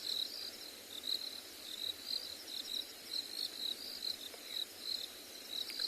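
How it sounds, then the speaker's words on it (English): A steady, high-pitched droning chorus of red toads pulses continuously in the distance, faint and uninterrupted, with no voices, on a morning safari in South Africa. "There's a droning of red toads in the distance."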